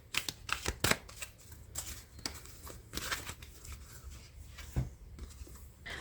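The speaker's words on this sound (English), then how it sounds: "let's go ahead and shuffle this deck here" Crisp riffling and flicking of a deck of tarot cards being shuffled, in quick bursts of papery snaps, close up with no talking.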